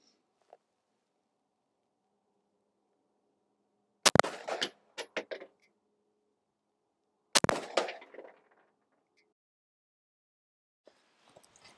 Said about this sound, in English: We'll shoot the same target this time.